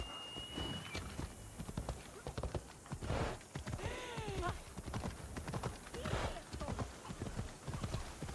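Horse hooves clip-clop steadily in the video game Assassin's Creed Odyssey, a close, even walking rhythm through the whole stretch, with faint game sounds and a soft voice-like cry over it.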